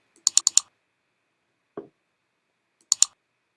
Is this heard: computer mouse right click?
yes